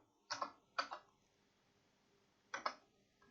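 Keys pressed on a computer keyboard for the Ctrl+Shift+P shortcut, two quick clustered clicks early, then another pair near the end, close and fairly quiet, with no speech.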